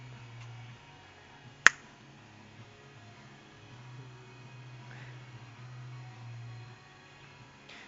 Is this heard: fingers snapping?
yes